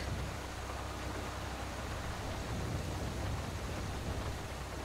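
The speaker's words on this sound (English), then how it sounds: "That rain haven't stopped since then. Been raining all day" Steady, dense rain pours down in the video game GTA 5, a constant hiss that fills the whole clip at an even level, with no voices.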